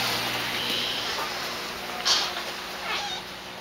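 A cat meows a couple of times, faint and somewhat distant, over a steady background hiss.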